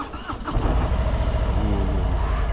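A 2018 Harley-Davidson Street Bob motorcycle rumbles as it pulls away, a loud, close, deep engine note that swells after a brief start and holds a steady throaty rhythm.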